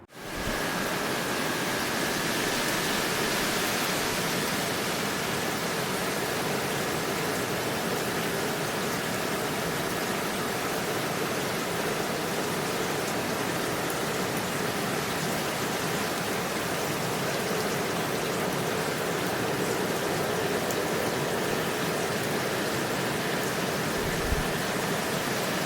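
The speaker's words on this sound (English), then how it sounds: "Let's listen to some rain first." Steady rain plays as a sleep sound, a broad, unbroken hiss that holds an even, moderate level for the whole stretch, with no voices or other events.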